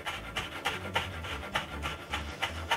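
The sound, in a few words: knife finely chopping parsley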